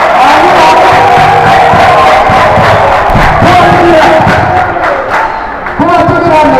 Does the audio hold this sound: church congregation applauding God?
yes